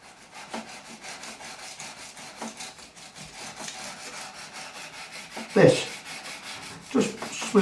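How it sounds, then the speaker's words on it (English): Hand sanding the fretboard edge of a 2005 Gibson Les Paul with 400 grit sandpaper, steady rhythmic back-and-forth rasping strokes close up, with a few louder, heavier strokes near the end. "I'm going to finish off with 400 grit sandpaper."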